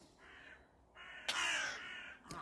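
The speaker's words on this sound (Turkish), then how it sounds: "Kargalar." Crows caw in a home garden, a few harsh calls rising one after another, the last loud and close, over a quiet outdoor background.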